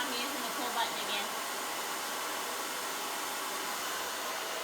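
Blow dryer on cool setting during a round brush blow-dry, a steady airy whoosh held throughout with a brief faint voice near the start.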